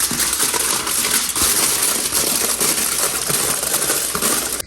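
Aluminum foil crinkling and rustling continuously as it is folded over a bleached wig's hairline, a steady crackly handling noise close up, no voices.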